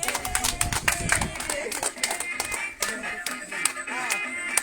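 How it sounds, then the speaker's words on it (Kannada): A group of people clapping hands at a kabaddi gathering, brisk irregular claps close by, mixed with voices talking throughout. "ಚಪ್ಪಾಳೆ ಚಪ್ಪಾಳೆ ಹೊಡ್ರಿ."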